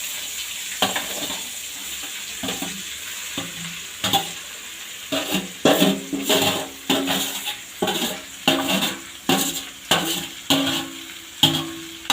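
Garlic and dried red chili sizzling in hot oil for a drumstick leaf dish, with a spoon repeatedly scraping and clanking against the pan in irregular strokes, close and clear, no talking.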